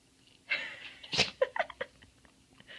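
A dog sneezes indoors, several quick, sharp snorting bursts clustered close together, fairly near and moderately loud against a quiet room.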